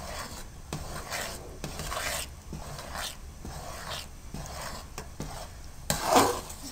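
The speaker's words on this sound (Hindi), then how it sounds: "अब आपने इसमें मुसलसल चम्मच चलाते रहना है, दरमियानी आंच रखनी है" A spoon stirs makhadi halwa continuously in a pan over medium heat, a steady rhythmic scraping and rubbing against the metal with repeated strokes, close and clear, with a sharper clink near the end.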